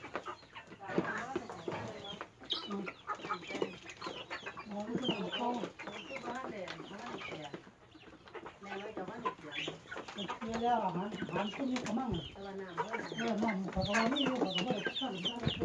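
Chickens cluck and squawk nearby, busy and overlapping, with someone talking through much of it and general farmyard bustle.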